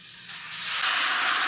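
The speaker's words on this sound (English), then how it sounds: "Oh, it's that sizzle." A sake and soy sauce mixture hits a hot pan while Korean bulgogi pasta cooks, giving a loud, steady hissing sizzle that swells after a moment and holds.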